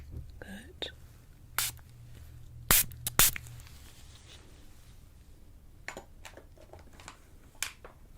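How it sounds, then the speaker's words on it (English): Several short hissing spray bursts from a bottle, spritzed close up during an ASMR beauty salon facial roleplay, with soft whispering and quiet handling noises around them. "Gonna cover your nose like this because I need to spray this."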